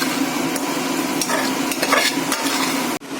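A spoon scrapes and stirs through rice and lentils with rock salt and turmeric in a pot, soft sizzling underneath, a few clinks, then a sharp knock at the end.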